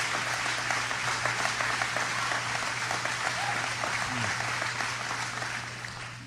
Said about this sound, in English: A lot of applause.